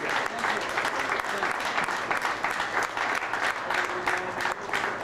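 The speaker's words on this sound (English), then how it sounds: "How about a big round of applause for Joe here?" At a Ted Williams Camp reunion, an audience gives Joe a round of applause. It is dense and sustained, a crowd of many hands clapping steadily for about five seconds, moderately loud and even.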